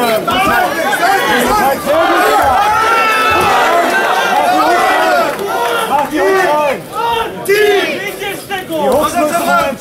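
Spectators at an X-Fights bout in Hannover shout and cheer continuously, a dense, loud crowd roar full of overlapping yells and calls, close and sustained throughout.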